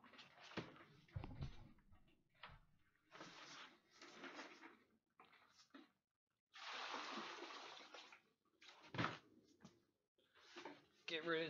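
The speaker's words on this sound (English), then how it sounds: "I gotta dump my water." Water dumped out of a stone carver's water trough, several splashing and pouring bursts in quick succession, one long gush in the middle, close by with speech between them.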